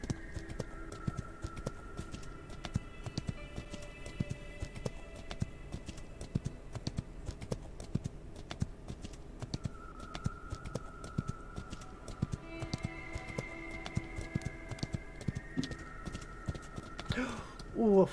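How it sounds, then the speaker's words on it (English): Steady clip-clop of horse hooves at a running pace in the video game Outlaws of the Old West, continuous throughout, with faint game music tones underneath and a brief louder flourish near the end. "Love the different sound the horse makes"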